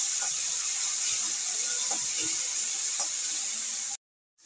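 Spice paste of onion, ginger and garlic sautéing in ghee for a Bengali crab curry, a steady close hiss and sizzle with a few soft stirring clicks, cutting off abruptly near the end.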